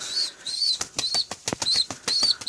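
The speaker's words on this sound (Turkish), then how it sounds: "Kanat sesi var yani." A young balcony pigeon beating its wings in close, loud bursts of rapid flapping, with the rhythmic wing claps joined by a faint whistling tone between strokes.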